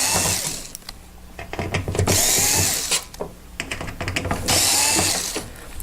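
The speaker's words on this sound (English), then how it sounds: "lay it down on one side and then remove the 5 screws" Screws being backed out of the side panel of an infrared heater with a ratcheting driver, giving repeated close clicking and whirring bursts in uneven spurts with brief pauses between them.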